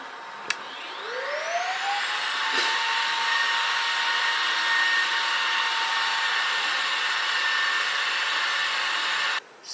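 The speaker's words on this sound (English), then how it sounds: "the Roomba needed to clear itself out" A Roomba robot vacuum empties itself at its base, a loud motor whine rising in pitch and then holding a steady droning roar for several seconds before cutting off abruptly.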